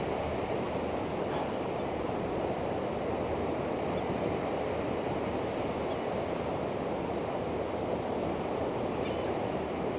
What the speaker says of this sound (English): To the waves, getting close to the waves,